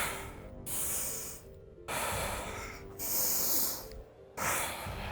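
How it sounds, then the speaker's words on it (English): Heavy, rapid breathing after high-knees exercise, a series of loud close huffing inhales and exhales in an uneven rhythm, with no talk. "Getting our breath back."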